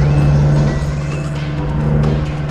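A DAF XG truck in Euro Truck Simulator 2 drives with a loud, steady diesel drone and low engine hum, heard close and constant without talking.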